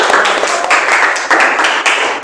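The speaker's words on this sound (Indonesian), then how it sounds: "Boleh tepuk tangan." Classroom audience clapping in response to a student's summary, a lively burst of hand claps that swells and dips in waves, close and fairly loud, without speech.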